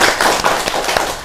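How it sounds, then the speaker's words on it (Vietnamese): Audience applause breaks out at a talk about chili-infused liquor, a dense, steady patter of clapping hands with a few sharper claps standing out. "xin ông tràn pháo tay"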